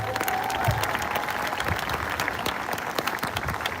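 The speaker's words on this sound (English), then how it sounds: "Give them a round of applause." An audience claps steadily and loudly at an ice cream social, cheering sponsoring families; the dense applause runs unbroken for several seconds with a brief voice near the start.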